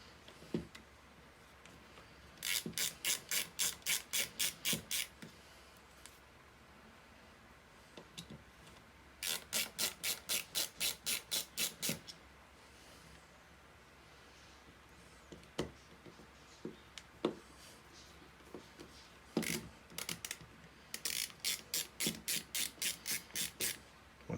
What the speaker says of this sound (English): You're going to want to remove 3 screws.